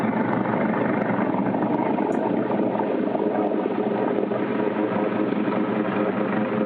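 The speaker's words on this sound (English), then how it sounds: "I can tell you by the sound of the rotors that that is a Sikorsky" Sikorsky S-76 C++ helicopter rotors making a loud, steady broadband roar that fills the whole clip without pause, close overhead and with no talking.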